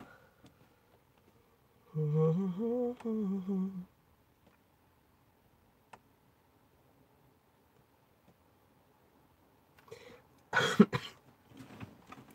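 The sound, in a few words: coughing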